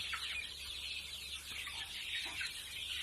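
A coop of about two hundred domestic chickens, one month and six days old, keeps up a steady chorus of high chirps and soft clucks, close by and unbroken, with no talking.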